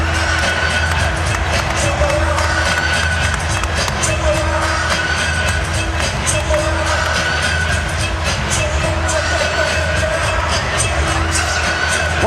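Dense arena crowd noise from a Duke at North Carolina college basketball game, a steady loud roar of cheering that fills the whole stretch with no break or lull.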